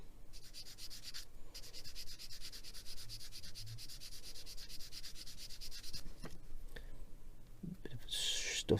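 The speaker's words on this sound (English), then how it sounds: "if we get the squishy sanding block, not a hard one, but my sort of medium grade I suppose it would be, I'm just going to give this a bit of a sand" Soft squishy medium-grade sanding block rubbing across a plastic 1/35 scale model kit part, continuous close scratchy strokes with a few light handling clicks near the end.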